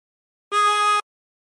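One blown note on hole three of a chromatic harmonica with the side button pressed, a clean sustained half-second tone starting and stopping abruptly, alone and close.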